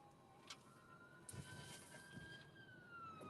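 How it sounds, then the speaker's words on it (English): Fire truck siren passing outside during a police ride-along, a faint wailing tone sweeping slowly up and down behind a steady background rumble, distant and continuous throughout. "sorry, there's a fire truck."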